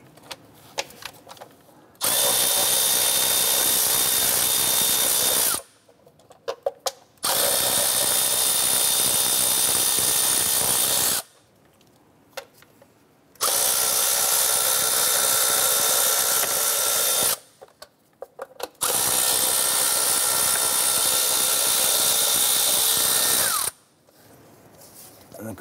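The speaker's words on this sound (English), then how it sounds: "We're going to use our 10 millimeter socket and remove these four bolts holding our cover on." A power tool fitted with a 10 mm socket removes the engine cover bolts on a 2008-2012 Honda Accord 2.4L. It whirs loudly and close in four sustained runs of several seconds, with brief pauses and clicks between them.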